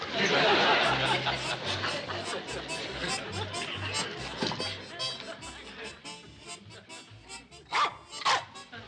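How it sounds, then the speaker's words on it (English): A dog barks repeatedly during a hectic crisis scene in a 1960s sitcom, Petticoat Junction, near a dock, the sharp yaps and woofs mixed with overlapping voices and general commotion. "The stupid dog goes all to pieces in a time of crisis"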